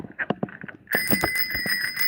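Several quick bell rings from a bell mounted on a converted school bus styled after Stranger Things, sharp close metallic dings, followed by a bright sustained ringing tone that keeps resonating.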